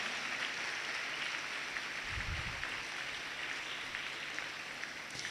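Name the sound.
audience applause welcoming a guest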